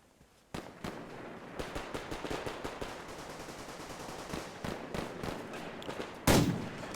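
Rapid, loud bursts of close-range gunfire from Survarium, sharp cracks coming in quick irregular volleys like a machine gun, with a heavier blast near the end.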